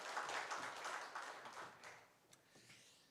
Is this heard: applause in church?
yes